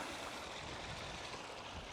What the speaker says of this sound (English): We get the waterfall finished.